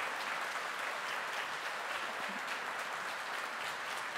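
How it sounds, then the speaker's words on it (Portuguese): A church congregation gives a round of applause welcoming a woman, a soft, even wash of many hands clapping heard from a distance and fairly faint, with no talk. "Você vai recebê-la com uma salva de palmas"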